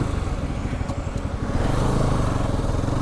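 A Bajaj Pulsar 200 NS motorcycle with about 90,000 km on it, its engine running with a steady low throb and a faint rev rise, close and loud throughout with no talk.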